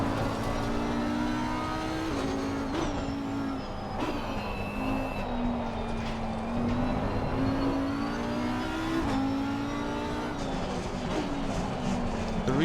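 Audi race car engine in a racing game on the Zandvoort circuit, a continuous loud drone that rises and falls as the car accelerates and brakes, with no talk.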